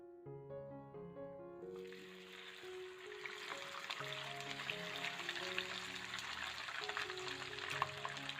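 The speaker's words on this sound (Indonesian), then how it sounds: "ikan kita goreng agak sedikit kering saja" Fish fries in hot oil with a dense, steady crackling sizzle that starts abruptly after a few seconds of soft background music and continues, close and fairly quiet.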